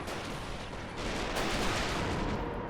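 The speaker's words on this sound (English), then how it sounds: "That AA gun is still going nuts." Rapid anti-aircraft gun fire rattles through a WWII video game beach battle, a dense, continuous barrage that swells louder about a second in and stays heavy throughout.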